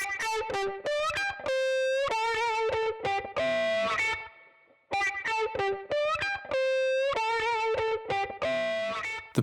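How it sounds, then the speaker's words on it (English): Squealing lead guitar run through Rob Papen RP-Distort fuzz distortion, bright biting notes in fast phrases with a brief pause midway, loud and alone. "hear how the frequency range of the fuzz distortions effect is focused down upon the upper mid-bite of the squealing lead"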